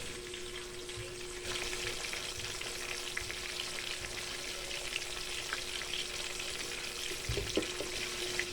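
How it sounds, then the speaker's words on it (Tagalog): Pork meatballs fry in hot oil with a steady, close crackling sizzle that thickens after the first moment and holds throughout, with a few soft clinks near the end. "Tapos, ilagay na sa mainit na mantika."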